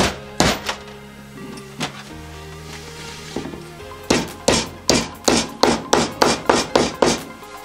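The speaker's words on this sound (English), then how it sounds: "Yeah, those tapped right in with a good old rubber mallet." Rubber mallet tapping brake seals into place on a Foxbody project car in a garage, a few scattered knocks followed by a quick steady run of about a dozen firm thuds, close and without speech.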